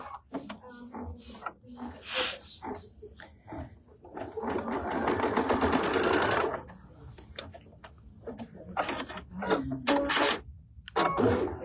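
A sewing machine stitches fabric for a pieced fall-themed trivet, a rapid mechanical whirring run of several seconds framed by short start-and-stop bursts and handling clicks, close and fairly quiet.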